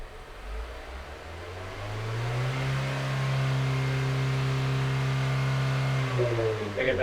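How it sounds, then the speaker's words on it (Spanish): A car engine rises in pitch as the accelerator is gradually pressed during engine control unit sensor testing, then holds a steady, droning rev for several seconds before dropping back, close and fairly loud. "A ver, ve acelerando poquito a poco, David."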